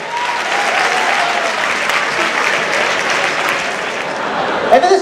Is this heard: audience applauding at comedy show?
yes